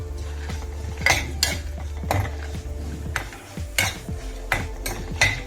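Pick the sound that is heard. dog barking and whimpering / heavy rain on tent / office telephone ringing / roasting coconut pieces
roasting coconut pieces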